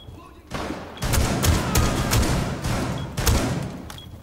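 Shotgun blasts in Tom Clancy's Rainbow Six Siege, several loud close booming shots in quick succession with a rumbling tail, a voice talking around them.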